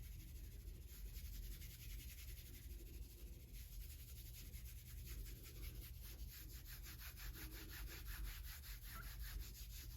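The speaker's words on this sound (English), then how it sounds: "I'm going to give the whole thing a rub to warm up the glue" Steady friction of a hand rubbing kinesiology tape applied over a swollen, bruised area, a continuous close soft scraping texture lasting throughout with no speech.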